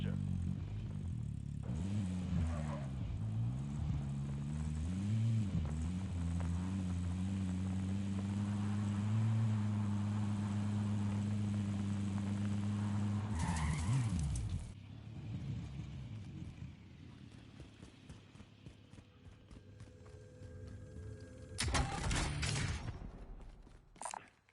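A light vehicle driving in the Modern Warfare video game, with a loud engine rising and falling in pitch as it accelerates and shifts, mechanical creaks throughout, then quieter rumbling and a sudden rough burst near the end.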